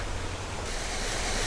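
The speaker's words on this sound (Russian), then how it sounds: "Вот водопад начинается" Waterfall at a resort, heard as a continuous broad rushing roar of falling water that grows fuller partway through, with no voices.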